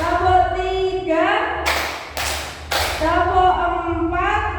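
A group clapping in unison, three sharp loud claps in a steady rhythm, with a person talking before and after them.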